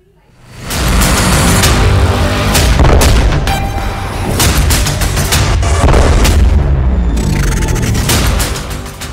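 India's new Zorawar light tank, built for the Ladakh and Kashmir fronts, heard as loud, heavy booming gunfire and roaring blasts that run together continuously, with no voices.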